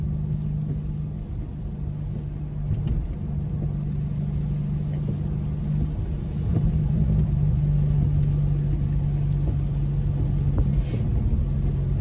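A car drives down a potholed road in the rain, heard from inside as a steady low engine and road rumble with a constant droning hum, occasional faint bumps and a slight rise in engine sound partway through.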